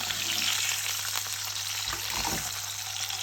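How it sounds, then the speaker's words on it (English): Eggs coloured with turmeric fry and crackle in a pan as they are stirred, a steady close sizzle with occasional scraping of the utensil, no voices. "Give them a stir as well, keep stirring that, make sure it don't burn."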